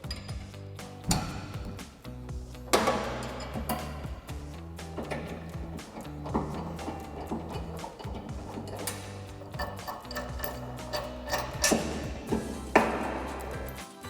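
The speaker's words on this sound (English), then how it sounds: "we're going to have to remove this tow hook using our 13/16 wrench to remove these 2 bolts." A 13/16 wrench working the tow hook bolts loose on a Jeep Gladiator, a series of metallic clinks, ratcheting ticks and sharp knocks at irregular intervals, close and fairly quiet, with no talking.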